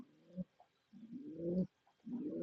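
A pair of fancy pigeons coo softly nearby, giving three low, rolling coos with short pauses between them.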